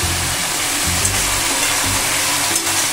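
Amudi fish chorchori frying in a pan as chilli powder is stirred in, a loud, constant sizzle with low stirring thumps throughout.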